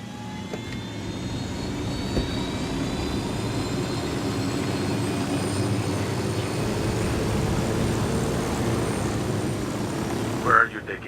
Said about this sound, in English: this could be a very short chopper ride